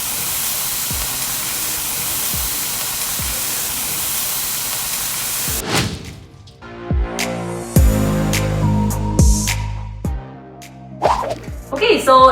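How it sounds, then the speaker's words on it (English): Shrimp sizzle loudly in a hot pan with a steady broadband hiss for several seconds, then sharper crackles and pops as more shrimp go in, cooking for kimchi shrimp tacos, with a voice talking over it. "We're just gonna get all this shrimp in here. Oh. Sizzle for me, baby."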